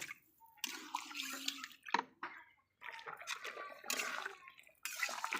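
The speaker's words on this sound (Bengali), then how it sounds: "একটু পানি দিলাম।" Water is poured into a pot of chicken curry in a couple of splashing bursts with a short pause between, close by and fairly quiet, with no talking.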